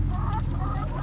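Chickens cluck steadily and close up beside an automatic coop door at a house, a dense, continuous burst of fowl chatter with no talk over it.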